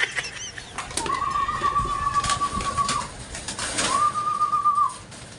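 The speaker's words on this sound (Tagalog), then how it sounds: "Ang dami kong kalapate." Pigeons in a racing-pigeon loft flap their wings in short bursts and coo nearby, with two drawn-out whistle-like tones rising above the fluttering.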